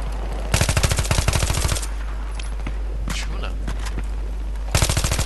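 Automatic weapon fire from a Battlefield 3 match: two rapid bursts of closely spaced shots, one early and one at the end, with a short spoken word and quieter game ambience between them.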